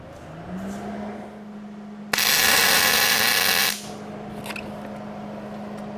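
MIG welder tacking a piece onto a body jig built from an old rusty, cracked Model A frame: a loud, steady buzzing crackle lasting under two seconds, standing out over a low workshop hum.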